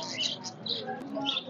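Golden pigeons at a pigeon market in Khulna give faint chirps and soft coos, with a few short calls scattered over a quiet market background.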